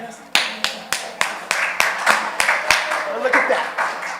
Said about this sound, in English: Let's clap her up one more time.